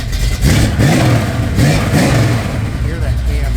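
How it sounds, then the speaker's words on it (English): A 1966 Chevrolet C10 pickup engine is revved, rising and falling through a couple of throttle blips over a steady lumpy idle, loud and near, with someone talking over it. "Give a little rev, Mike."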